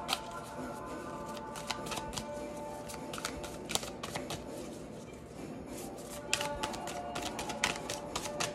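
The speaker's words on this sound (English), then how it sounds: "these cards are so hard to shuffle." Tarot cards are shuffled by hand in quick, crisp riffles and flicks, close and fairly quiet, with repeated bursts of card slaps and no talking.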